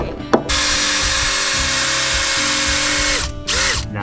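A power drill whirs steadily into wood for several seconds, loud and close, briefly cutting out near the end before spinning up again.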